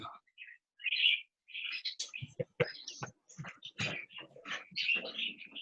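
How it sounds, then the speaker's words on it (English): Small birds chirping and tweeting outdoors behind someone speaking, with short, bright calls scattered between and under his words. "We hear those birds chirping in the background"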